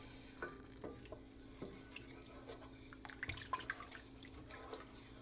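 A spoon works frozen peas and carrots through soup with thyme in a pot, giving scattered scrapes, clinks and soft wet shuffles. The sounds are quiet and irregular over a low steady hum.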